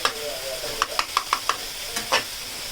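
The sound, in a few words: frying onions and tomatoes in a pan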